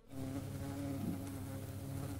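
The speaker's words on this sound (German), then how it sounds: "Die Biene!" A bee buzzes steadily and close, a sustained droning hum with no break and no voices.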